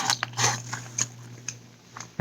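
Crunchy, charred fried potatoes are chewed up close, a series of crisp bites and crunches in an irregular rhythm with quiet pauses between them.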